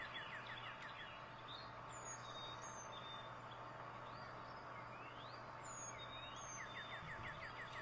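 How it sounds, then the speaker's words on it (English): Northern cardinals and Carolina chickadees sing and call over a steady low background hum, with clear whistled, siren-like notes and slurred phrases repeating at a distance. "I hear some northern cardinals, of course, sounding like a siren or ambulance alarm"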